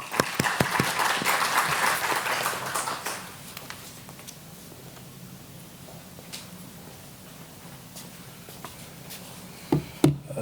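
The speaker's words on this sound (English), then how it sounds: "with a round of applause" Audience applause welcoming a speaker at a university health talk: a burst of clapping for about three seconds, then it thins out into quiet room noise with scattered knocks and a couple of sharp thumps at the end.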